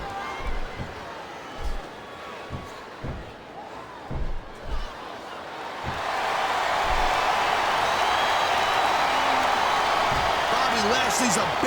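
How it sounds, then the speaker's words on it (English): A capacity wrestling-arena crowd at WWE Judgment Day 2006 roars in a dense, sustained swell, preceded by scattered thuds and a commentator's voice before the noise fills in loudly. "It sounds like this capacity crowd has something on their minds"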